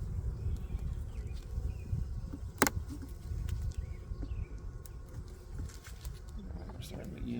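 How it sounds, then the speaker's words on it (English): Honeybees humming around open frames during a spring hive inspection, a soft continuous buzz under a low background rumble, with a sharp click partway through and faint bird calls. "We're starting to get into frames with bees."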